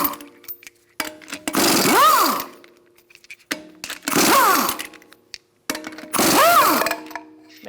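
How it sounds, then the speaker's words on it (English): A 19mm socket on an impact wrench spins lug nuts off a 2002-2006 Honda CR-V wheel in three loud whirring bursts, each rising then falling in pitch, separated by short quiet gaps. "Using a 19mm socket, we're going to remove our lug nuts and remove our wheel."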